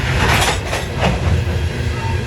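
A Norfolk Southern coal train bound for Lambert's Point Yard rumbles past at close range, a loud, continuous roar of heavy wheels and cars with no break across the short stretch.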